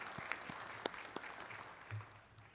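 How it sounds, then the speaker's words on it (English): Scattered audience applause at a high school Hall of Fame induction ceremony, thin and uneven, with a few sharper claps standing out and a brief low voice or murmur near the end. "please give Kane Farabaugh another round of applause"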